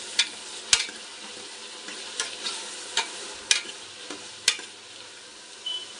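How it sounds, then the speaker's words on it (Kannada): Tomato, carrot and peas frying in a pan with ginger-garlic paste for veg pulao, a soft continuous sizzle broken by sharp spoon-on-pan stirring clinks at irregular intervals. "ಇವಾಗ ನಾನು ಟೊಮೊಟೊ, ಕ್ಯಾರೆಟು, ಬಟಾಣಿ ಹಾಕ್ತಾಯಿದ್ದೀನಿ. ಇದನ್ನು ಅಷ್ಟೇ ಚೆನ್ನಾಗಿ ಫ್ರೈ ಮಾಡ್ಕೋಬೇಕು."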